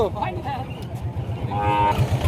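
Water buffalo lowing at a busy livestock market in Rajshahi, a steady low bellowing call running through the clip amid crowd murmur and nearby voices.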